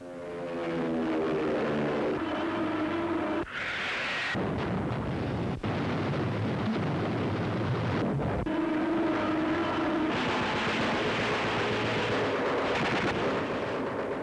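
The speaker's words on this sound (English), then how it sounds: "Napalm sprays over a guerrilla strong point." A Korean War napalm air strike on a guerrilla strong point, heard as a continuous roar of aircraft engines mixed with rumbling blasts and sharp cracks, loud and dense with no voices.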